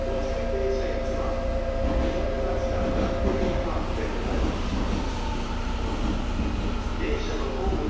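A Tokyu Denentoshi line 2020 series local train rumbles steadily with a loud, constant interior drone and faint tonal whine while a platform announcement voice speaks over it.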